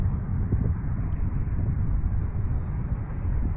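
A Hangar 9 P-47 Thunderbolt radio-controlled model plane on its maiden flight, its engine droning loudly and steadily overhead without a break.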